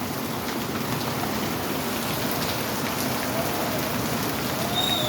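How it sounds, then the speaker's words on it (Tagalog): Heavy rain pours down steadily, a dense continuous hiss of drops striking surfaces close by, with no voices over it. "Lakas ng ulan."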